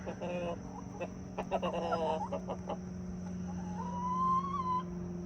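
Chickens cluck and murmur close by inside a coop, a mix of short clucks and a drawn-out call over a steady low background hum.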